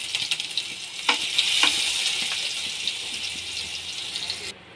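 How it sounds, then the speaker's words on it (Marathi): Mustard seeds and red and green chili paste dropped into hot oil for vada pav, a bright steady sizzle with a few popping spurts, close and continuous before cutting off abruptly at the end. "आता मी थोडीशी याच्यामध्ये टाकत आहे मोहरी आणि हे जे आपण बारीक केलेलं होतं लाल हिरव्या मिरच्याची पेस्ट हे टाकून घेत आहे"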